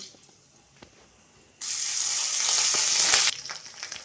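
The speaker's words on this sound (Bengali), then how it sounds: "ফোড়ন দিয়ে দিলাম পাঁচ ফোড়ন আর শুকনো লঙ্কা দিয়ে দিলাম" Five-spice and dried chillies dropped into hot oil, with bay leaf, salt and crushed ginger, burst into a loud, steady sizzle partway through, then ease to a softer crackle; no one talks.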